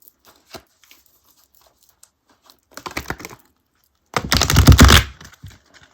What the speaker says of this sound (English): Still not great at riffle shuffling, but I can sort of do it.